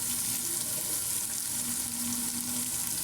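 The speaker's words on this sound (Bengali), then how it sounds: "মশলাগুলো কষায় নেব ভালো করে" Spice masala for rohu fish korma fries in a pan with a continuous, close, even sizzle and no voices.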